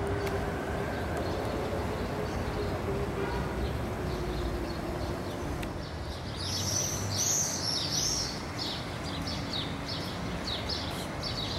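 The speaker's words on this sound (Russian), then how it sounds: "А птички как чирикают, слышно?" Small birds chirp in bright bursts after rain over steady outdoor street noise on Isahakyan Street in Yerevan, a few close calls standing out near the end.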